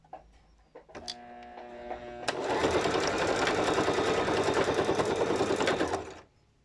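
Sewing machine backstitching across elastic: a short hum and a pause, then a long loud steady run of rapid stitching that stops abruptly, with no talking.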